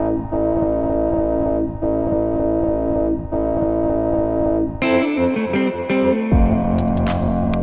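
A pulsing, distorted synth bass line from a Dirtywave M8 repeats in a steady rhythm with delay echoes, then shifts into a busier pattern near the end.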